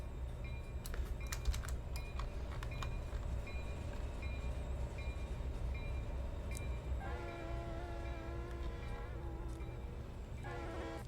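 A train in the Blue River Mainline Remastered simulator game rumbles steadily at low level, with clicking and tapping throughout and two stretches of a sustained multi-tone horn-like wail, heard without talk.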